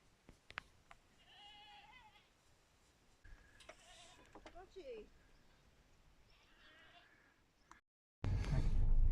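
Goats bleating on a mountain driveway in Kefalonia, a few scattered wavering bleats at moderate distance over quiet outdoor ambience, followed by a sudden burst of loud broadband noise at the end.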